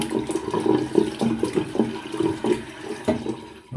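Water running from a tap into a wash basin, a close, loud splashing gush with a gurgling, uneven rhythm for a few seconds.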